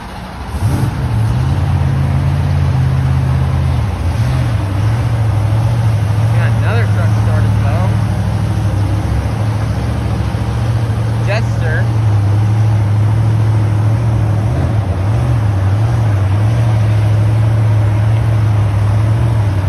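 A monster truck at a Monster Jam stadium show in Tampa, Florida, struggles to start, then settles into a loud, steady low engine drone that wavers and surges at times, with crowd noise and occasional voices underneath.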